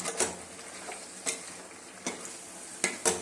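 Turmeric, chili and coriander powders sauté in a pan for a dried-fish curry, a steady close sizzle broken by sharp spatula scrapes against the pan every second or so, with no voices.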